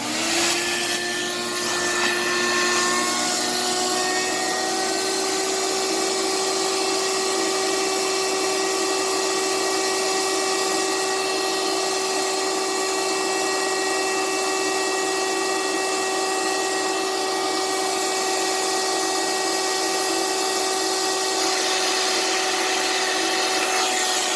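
A steady, loud vacuum whine runs continuously with a slurping suction edge as it sucks cleaning liquid off a vinyl record, holding almost unchanged for the whole stretch, no talking.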